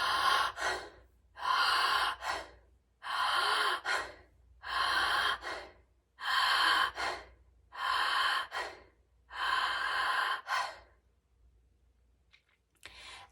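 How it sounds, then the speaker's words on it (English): Seven rhythmic breath cycles of active inhaling and passive exhaling in an energizing breathing exercise, each a loud, close, airy rush lasting about a second, evenly spaced, then a near-silent pause with faint clicks. "So, actively inhaling, passively exhaling. You're going to do 10 breaths."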